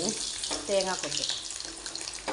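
Coconut pieces sizzle in hot oil at the start of a Kerala-style dry beef curry, giving a steady close frying hiss with a brief stretch of talking partway through.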